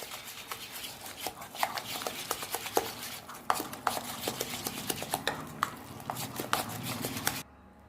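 A spoon beats coarsely ground chana dal batter for dal vada in a steel bowl, giving quick, irregular clicks and scrapes against the metal that continue for several seconds and then stop abruptly.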